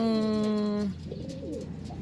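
A steady tone cuts off, then a pigeon gives a few soft, low coos nearby.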